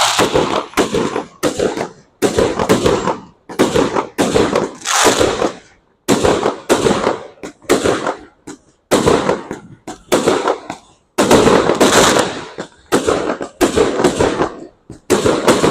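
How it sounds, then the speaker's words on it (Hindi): Fireworks and firecrackers going off in an evening city square in Tbilisi, Georgia: loud, dense bursts of rapid crackling pops that come in repeated clusters separated by short gaps. "और कुछ फायरवर्क्स भी स्टार्ट हुआ है।"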